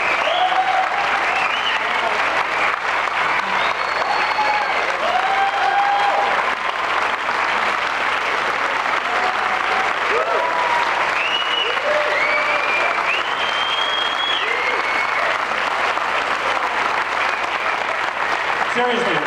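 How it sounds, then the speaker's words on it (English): A crowd claps steadily for a woman at a farm hootenanny gathering, sustained dense applause with voices and cheers mixed in throughout. "A huge round of applause for this woman right here."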